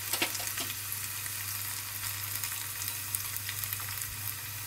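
Dal tempering with dried red chillies sizzles in hot oil as a steady, close crackle with small pops, continuous and alone with no voices.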